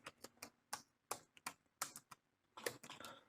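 Quick bursts of typing on a computer keyboard, close and fairly quiet, with short clusters of key taps broken by brief pauses and a denser run of keystrokes near the end.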